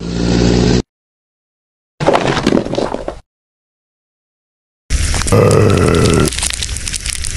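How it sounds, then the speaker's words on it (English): Rough guttural zombie growls and grunts from a video game in three loud bursts separated by silence, the last one longer and harsher, like a monster groaning. "What was that sound? Sounded like a zombie."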